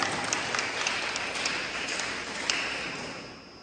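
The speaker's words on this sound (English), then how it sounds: "big round of applause for the LSMSA soccer team." A banquet audience gives a sports awards round of applause for a school soccer team. The crowd claps steadily and evenly, then fades near the end.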